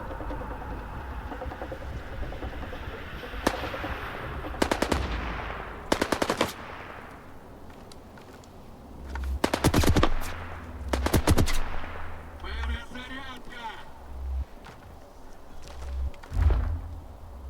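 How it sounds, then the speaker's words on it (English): Automatic gunfire in the video game STALKER 2: Heart of Chornobyl, several sharp bursts of rapid shots spaced across the clip over a low rumbling ambience, with no talking. "Where am I taking fire from?"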